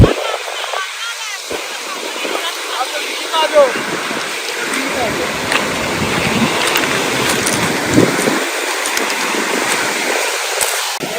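Waves break against the rocky lake shore at Jack Darling Memorial Park in Mississauga, a continuous rushing wash with surges, while someone talks over it close by.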